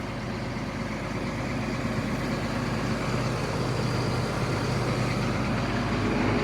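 An excavator engine runs at a steady idle, giving a loud, continuous, close rumble that stays even throughout with no talking.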